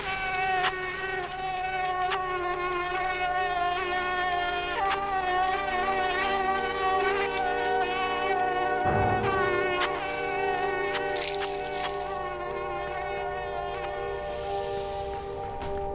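Steady high-pitched insect buzzing, like swarming mosquitoes, drones on continuously in the video game Limbo alongside sustained tonal drones, with a brief low thump near the middle and no talking.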